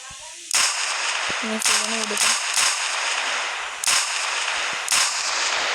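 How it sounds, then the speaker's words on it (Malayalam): Sharp gunshots from a game ring out in an irregular series, several bursts spread across the clip, with brief synthetic tones in between. "ആ ഗണ്ണ് നമ്മുടെ ക്യാരക്ടർ കയ്യിലെടുക്കും. എന്നിട്ട് വെടിയൊക്കെ വെക്കാൻ പറ്റും"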